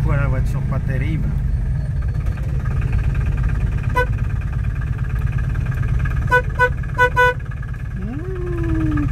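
A microcar's horn toots several short bursts at another small car beside a running engine, with voices talking over the steady engine hum; the beeps come in quick clusters near the middle and end.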